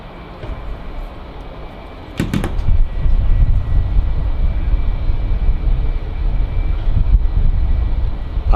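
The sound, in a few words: Emirates Boeing 777 engines starting up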